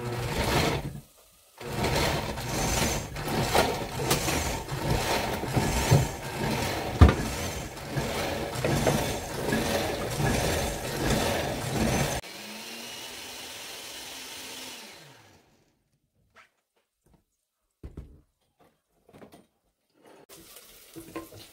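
A blender grinds ingredients with a clove of garlic for a cheese stew, a steady loud whirring roar with pulsing texture for about twelve seconds, then slowing to a lower hum and stopping, followed by a few light clatters.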